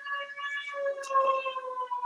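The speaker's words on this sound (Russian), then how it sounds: "Вот так звучит эта сирена." Wartime air raid warning siren played in a museum of Moscow's defense, a clear wailing tone that holds and slowly shifts pitch, loud and alone.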